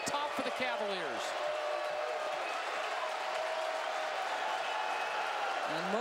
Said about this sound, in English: most of the fans standing and cheering on second and 14